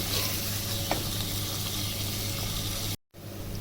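Onions fry in a karahi for a Sindhi namkeen chicken dish, giving a loud, continuous close sizzle with faint stirring scrapes and a brief drop-out near the end.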